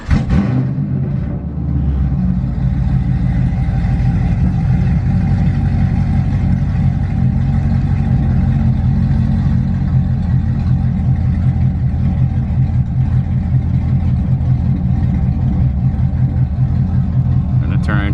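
An LS V8 engine with an LNC 2000 flame kit holds a steady, loud, rumbling idle-to-rev drone for the whole stretch, close up and unbroken, with no speech over it.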